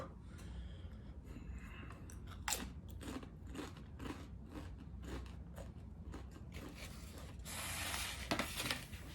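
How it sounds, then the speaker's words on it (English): A man chewing crunchy Flamin' Hot Fritos close to the mic, with repeated crisp crunches and wet chewing in an irregular rhythm, no talk. "you get a nice 15 seconds of man chewing food"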